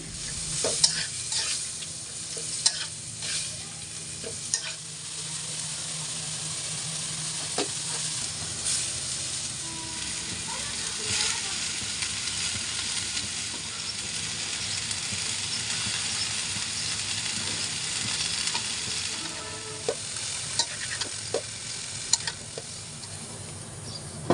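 Shrimp and tomato with turmeric and chili powder fry in a pan, giving a steady, moderate sizzle while a utensil stirs and scrapes now and then. No talking is heard.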